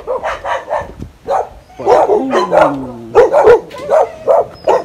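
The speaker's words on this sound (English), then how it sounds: "There's so many dogs right here." Dogs barking on a street in Saigon, several close, loud barks in quick bursts that repeat throughout, with short gaps between volleys.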